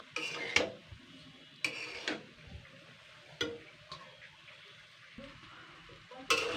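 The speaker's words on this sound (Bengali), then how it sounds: "ভালো করে নাড়াচাড়া করে নিতে হবে।" A utensil stirs fish eggs in a pan over a low flame, giving soft scraping and faint sizzling broken by a few sharp clicks and knocks against the pan.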